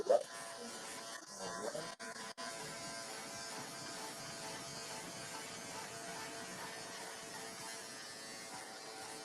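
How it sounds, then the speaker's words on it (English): Cordless hair clippers buzz continuously while cutting hair in a barbershop, a steady close electric drone with a couple of short gaps near the start and no talk heard. "Now these clippers right here, the cordless masters run you probably about, I got mine for about 250 maybe."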